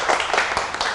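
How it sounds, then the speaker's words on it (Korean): Brief, steady hand clapping from a seminar audience thanking a tax lecturer, a short burst of close, mid-loud claps. "좋은 강의 해주신 우병탁 팀장님께 다시 한번 박수 부탁드립니다"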